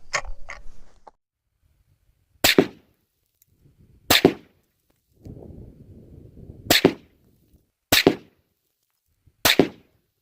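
Five sharp rifle shots from a Mossberg 100 fired as a group ring out one at a time with pauses of a second or more between them, each loud and abrupt with a short decay, plus faint handling noise in between.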